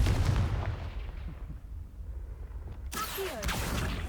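In the video game Hogwarts Legacy, the Confringo blasting spell goes off as a booming explosion at the start, fades into a rumble, then a second sharp burst and crackle follows.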